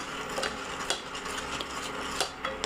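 A spoon stirs thick besan sheera with chopped almonds in a pan over medium heat, making soft scraping strokes and light clinks against the pan at an irregular pace, with no voices.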